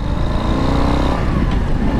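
A 2022 Harley-Davidson Low Rider S with a quiet stock exhaust, its engine idling and revving with a steady low rumble and slight clatter throughout, close and fairly loud, with no talk.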